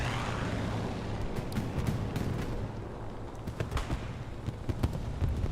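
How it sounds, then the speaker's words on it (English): Explosions and gunfire in the World War II shooter Hell Let Loose during a championship match on the Hurtgen Forest North Pass map, with sharp distant blasts and cracks over a steady low rumble of battle, without talk. "Explosion happens there across the riverbank."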